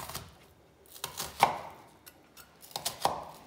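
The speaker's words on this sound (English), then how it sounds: "whenever I'm cutting an onion, I usually cut it into kind of segments first" Knife strokes chop an onion into segments on a board, with a few sharp, separate cuts spaced irregularly. They sound close and fairly clear, and no one talks.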